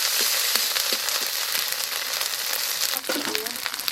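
A paste of ginger and garlic sizzles and fries steadily in a hot pan while tribal women cook a small fish curry with vegetables, with a few faint stirring scrapes and soft background voices.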